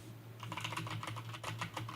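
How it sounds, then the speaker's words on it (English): Rapid clicking keystrokes on a computer keyboard, steady and close, over a low electrical hum. "You can hear the typing."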